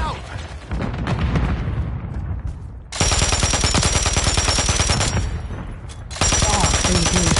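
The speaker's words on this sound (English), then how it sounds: "Grenade out! Stun grenade out!" A stun grenade blast and gunfire in Call of Duty: dense, loud rapid shots pour out in sustained volleys, cut by brief lulls, with shouted voices mixed in.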